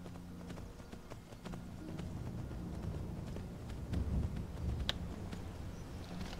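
Horse hooves clip-clopping in the video game Skyrim, a steady run of soft hoofbeats over low ambient game noise, moderately quiet and continuous throughout.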